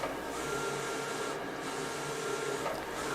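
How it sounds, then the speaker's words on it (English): A Roland VersaCAM print-and-cut machine prints full-color logos, its carriage producing a steady, close whirring hum with a slight change in pitch along the pass. "we'll print them out on the Roland VersaCAM print and cut machine"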